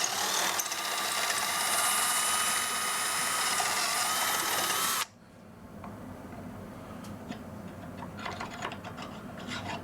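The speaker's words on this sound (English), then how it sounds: "I'm going to have to drill this back out using a hand drill" A steady whirring, grinding hand drill runs continuously at close range, drilling out a hole in a weld positioner purge tube setup, then stops abruptly, followed by quieter scraping and clicking handling noises.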